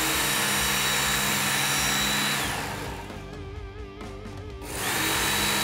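An electric Ken Onion belt knife sharpener runs with a steady, close, loud motor whine while a finer belt hones a blade at a 25-degree angle; the grinding tone dips and shifts midway as the blade is drawn across, then returns to full pitch.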